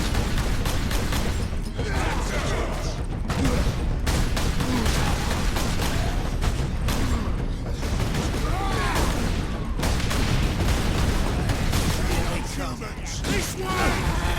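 Dense, continuous gunfire and explosive booms from a Warhammer 40K: Space Marine battle aboard an enemy ship, rattling steadily throughout under intermittent talk.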